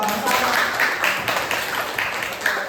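Steady applause from a group in a classroom, a dense wash of hand claps lasting throughout without pause.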